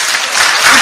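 Lecture audience at a patriotic talk in Daegu bursting into loud, dense applause, a brief wash of many hands clapping close and full.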